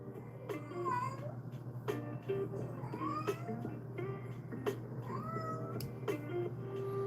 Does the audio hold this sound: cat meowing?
yes